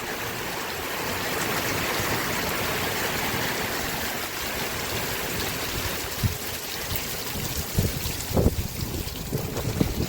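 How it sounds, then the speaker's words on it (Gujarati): Heavy monsoon rain in Banaskantha, Gujarat, with rainwater running off and flowing along the ground, a steady broadband wash throughout, with a few louder splashes and bumps near the end. "વરસાદ એટલો પડે છે એટલે પાણી પણ ચાલવા માંડ્યું"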